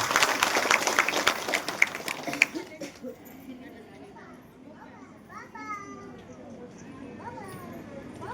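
Audience applause at a women's forum event in Chintamani, a burst of clapping for the first few seconds that fades out into quieter room murmur and voices.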